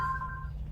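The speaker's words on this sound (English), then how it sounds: "That's my phone going off." A mobile phone rings with a steady electronic tone over a low background hum, moderately quiet and brief.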